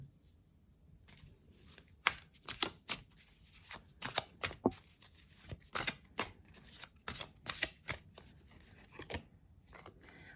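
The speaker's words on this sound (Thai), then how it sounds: "วันนี้แม่หมอจะ หยิบไพ่นะคะมาทั้งหมด 5 ใบนะคะ" Tarot cards handled and drawn one by one, giving a series of crisp, fairly loud snaps and riffling flicks spread through the whole stretch, with quieter shuffling between them.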